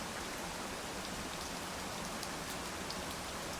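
Steady rain falls throughout, a dense continuous hiss of drops on a surface with scattered brighter patters, close and even, with no voices.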